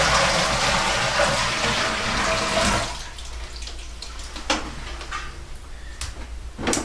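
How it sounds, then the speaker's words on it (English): Water pours steadily into the water tank of a wood-fired Nippa sauna stove for about three seconds, then stops, followed by a few soft knocks and small splashes nearby. "let me go ahead and pour another thing of water in this water tank"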